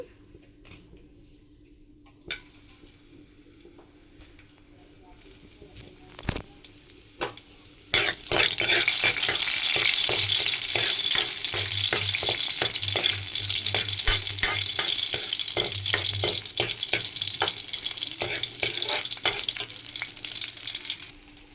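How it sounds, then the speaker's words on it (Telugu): Spices and garlic for a tempering hit hot oil in a pan with a loud, sustained sizzle, stirred with repeated utensil scrapes and taps. The first few seconds are quiet with scattered clinks. "నేను ఇప్పుడు తాలింపు పెట్టేస్తాను"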